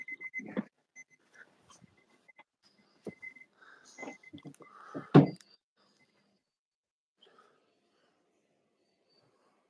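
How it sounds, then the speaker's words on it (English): A timer gives a short run of high, thin beeps, then stops. Scattered knocks, rustling and a brief voice sit around it, all fairly quiet. "Oh, timer."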